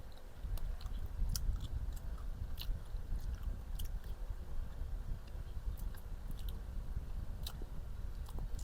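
Someone biting and chewing a hard dried apricot from a mixed dried fruit pack, with close, faint crunching and mouth sounds repeating irregularly over several seconds and no talk.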